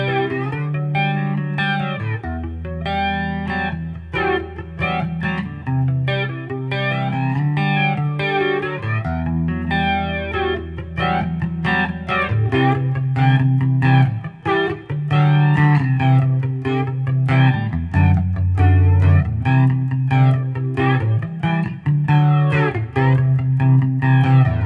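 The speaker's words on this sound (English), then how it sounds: "I'm gonna add a little mod to this, so let's hear what that sounds like through the clean channel" An electric guitar with a modulation effect plays through the clean channel of a Boss Katana Artist MK II amp, giving sustained shimmering chords and picked notes in a steady, close, loud passage with no talking.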